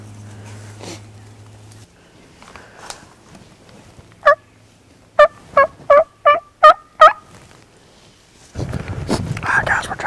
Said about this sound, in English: I got the turkey gobbling.